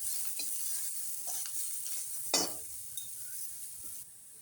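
Onion frying in a pan on full gas for misal, a steady sizzle with occasional scraping strokes of a stirring spoon, one sharper scrape midway, quieting near the end.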